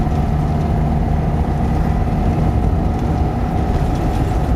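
A 1989 Talbot Express camper van's 2-litre petrol engine drones steadily under throttle, a loud continuous low rumble with a constant tone and no speech over it.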